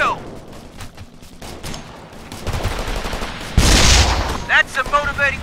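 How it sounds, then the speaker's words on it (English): Gunfire in the military shooter Operation Flashpoint: Red River, with bursts of shots and a heavy blast in the second half, loud and close, mixed with radio-style chatter and combat noise. "We're under fire."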